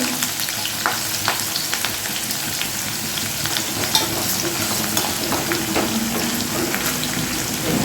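Chopped onion and green chili fry in hot oil for an egg tadka, a steady close sizzle with scattered spatters and stirring clicks throughout, no voices.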